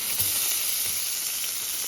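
Salmon fillet frying in a pan, a close, steady hissing sizzle with no voices.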